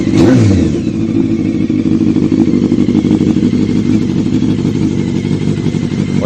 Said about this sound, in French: Voilà pour le projet 600 CBR. Elle est trop basse en ralenti là.